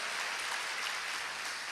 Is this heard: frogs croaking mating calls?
no